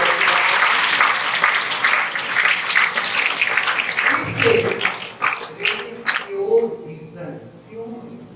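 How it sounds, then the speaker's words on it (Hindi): Loud applause from a seminar audience fills the room, gradually thinning out as a voice begins speaking over the fading claps. "इसलिए एक बार जोरदार ताली तो जरूर"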